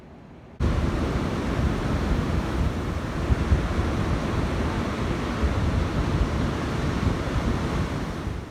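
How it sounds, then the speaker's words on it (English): Ocean surf rolls in steadily at close range after a brief quiet opening, a continuous broadband wash with wind rumbling against the microphone. "You get to watch the ocean."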